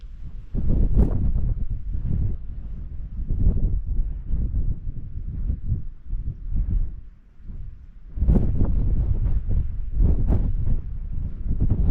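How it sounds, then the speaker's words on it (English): Strong gusts of wind buffet the microphone on a hillside walk near Stanage Edge above Hathersage, producing low rumbling roars that swell and fade in irregular waves, loud and close, with a brief lull partway through. "it's getting quite windy"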